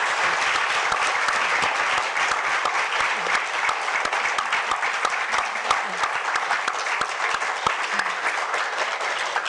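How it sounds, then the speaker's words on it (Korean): An audience at the 2019 Jeju Forum applauds steadily, dense sustained clapping from a large crowd in a hall that carries on evenly throughout. "토론문을 작성해 주신 정근식 그리고 이창익 교수님 그 주목할 만한 통찰에 우리 모두가 경의를 표하는 마음의 박수를 다시 한번 보내드리도록 하겠습니다."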